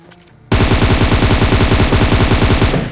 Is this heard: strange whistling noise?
no